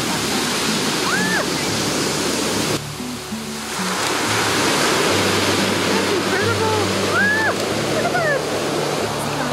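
Ocean waves surge and wash up onto a rocky beach at St Vincent's, Newfoundland, a loud continuous rushing roar. Excited voices talk over it and gulls call faintly in the background.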